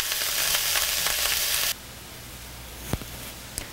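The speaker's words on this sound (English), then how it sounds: "So here we have some extra virgin olive oil down in our saute pan. To that, I'm just going to add that shredded cabbage and onion." Shredded cabbage, onion and chopped garlic hiss loudly in extra virgin olive oil in a saute pan, a dense steady sizzle that cuts off abruptly, followed by a couple of faint clicks.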